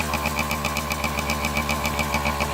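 A Kawasaki KD80 two-stroke motorcycle engine runs while smoking blue from the tailpipe, a steady rapid buzzing putter with an even fast pulse, close and continuous without talk.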